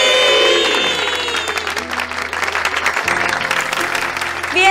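Loud applause from a television studio audience greeting young first-grade girls at a dance competition, a dense sustained clatter of clapping with crowd noise, steady throughout.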